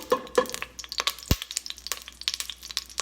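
Hot oil crackles and spits in a pan, a busy patter of sharp pops with one loud burst partway through.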